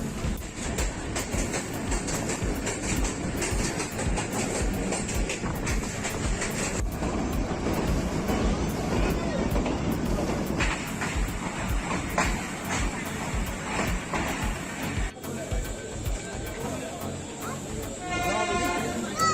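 The Millat Express of Pakistan Railways runs along the ML1 track, wheels and carriages rumbling and clattering steadily and loudly throughout, with a brief dip and a faint whistle-like tone near the end.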